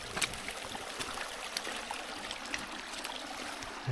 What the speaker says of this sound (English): That's a nice creek, huh?